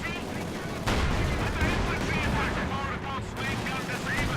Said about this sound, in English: But now we have a stolen Pak 43 about to shoot at something.